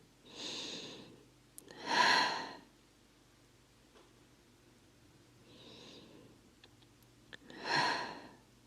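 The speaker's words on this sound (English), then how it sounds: "Take 2 deep breaths here." Slow, deep yoga breaths during a yin session for detox: two long inhale-exhale pairs, each a soft airy rush, close and fairly quiet, separated by near silence.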